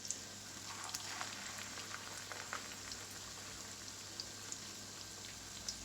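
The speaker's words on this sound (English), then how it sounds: "Fry one side and then turn over and fry the other side." Chicken and potato cutlets frying over low heat in a pan, a steady soft crackle and sizzle with scattered tiny pops, faint and continuous throughout.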